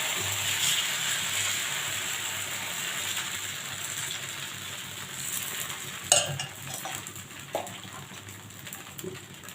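Jowar (sorghum) dosa batter cooking on a hot pan, a continuous loud sizzle with crackling, plus a few scraping and tapping clicks of a utensil near the end.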